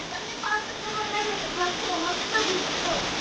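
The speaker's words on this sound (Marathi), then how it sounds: "तोपर्यंत मी मजा घेतो पावसाची" Steady rain falls outside during the first monsoon shower in Ambarnath, a dense continuous hiss with scattered splashes and patters, fairly close and even in level throughout.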